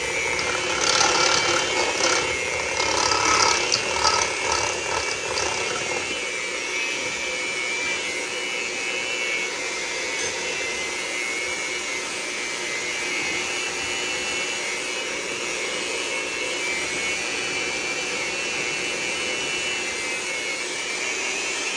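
An electric mixer whirs continuously through cake batter, loud and close, with rattling against the bowl early before settling into an even drone.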